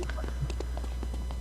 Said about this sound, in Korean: 뒤에서 발소리 난다